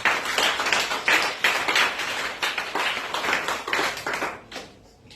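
A church congregation claps together in a dense, steady rattle of hands, loud and close, with some louder bursts, before the applause dies away near the end.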